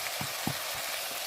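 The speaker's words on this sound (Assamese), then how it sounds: "এইফালে মই ভাজি আছোঁ বন্ধুসকল, চাওক" Spices frying in a pan for a local chicken curry give a soft, steady sizzle with a few faint bursts over about a second, quiet and without speech.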